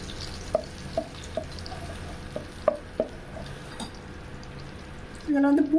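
About three spoons of butter melt in a pan on the stove with a soft, low sizzle, broken by scattered clinks of a spoon against the pan and a louder scrape near the end.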